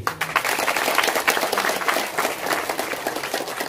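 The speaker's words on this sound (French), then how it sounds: "Applaudissez-les s'il vous plaît." Applause from an assembled audience at a community donation ceremony, a continuous, fairly loud patter of many hands clapping together for several seconds.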